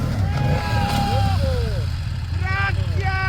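A BMW motorcycle engine runs steadily in the background, a low continuous rumble beneath someone talking loudly over it for the whole stretch.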